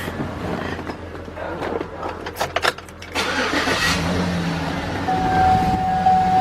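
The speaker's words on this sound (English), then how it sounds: "Start this car up." A 2007 Chevy Suburban engine cranks with a few sharp bursts, catches, and settles into a steady idle hum that grows slightly louder near the end.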